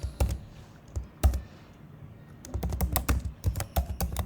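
Computer keyboard keys clacking in short irregular bursts while code is typed, with a pause between flurries of close, crisp key taps.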